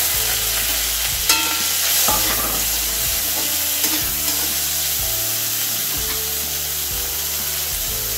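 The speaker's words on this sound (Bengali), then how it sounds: "কালো জিরা ভাজা হয়ে গেছে। এখন আমি দিয়ে দিচ্ছি কেটে ধুয়ে রাখা কাঁঠালের বীজ।" Black cumin and cut jackfruit seeds fry loudly in a pan, a dense close sizzle with repeated rhythmic scraping of a spatula stirring them.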